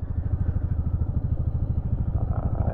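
A Royal Enfield Meteor 350 motorcycle climbs a steep ghat road in low gear, its engine thumping in a loud, close, steady rapid pulse with no pause.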